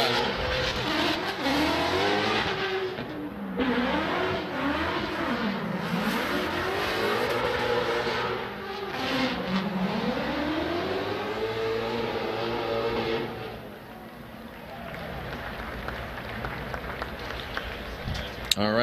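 A drift car at a Formula Drift Seattle Top 16 event runs a lap of the track, its engine revving and wavering continuously and loudly throughout, with a brief dip near the end.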